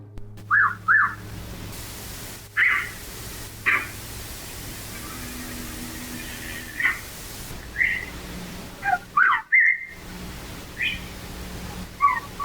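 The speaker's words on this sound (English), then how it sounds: "They're whistling back and forth to each other." Short whistled calls trade back and forth over a steady low hum, several brief bursts spaced irregularly, some near and some farther off, in a quiet night setting.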